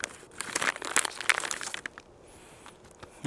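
A bag of malt extract is cut open while brewing a beer extract kit: a burst of close crinkling and rustling plastic, then a quieter tail with a brief light scrape.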